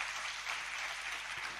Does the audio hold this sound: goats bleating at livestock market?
no